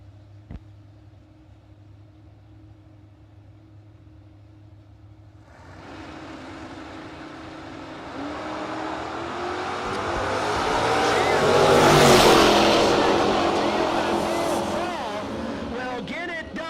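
An S10 and a Superstock Camaro launch down a drag strip at a no-box drag racing event, engines building from a distant rumble to a loud, roaring pass that peaks then fades, with an announcer talking throughout.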